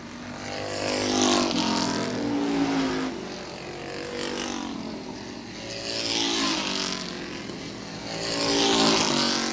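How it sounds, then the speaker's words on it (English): Renegade-class race cars circle a track during an evening race, their engines roaring loud and rising and falling as the pack repeatedly sweeps past, with no talk over the sound. "Cody Benoit leading by the backstretch over Rob Favreau in what has been a snoozer of a renegade race."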